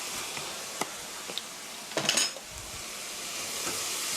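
Soy sauce sizzles as it is stir-fried in a pan for mapo tofu, a steady frying hiss marked by a few sharp clinks and one louder scraping stir.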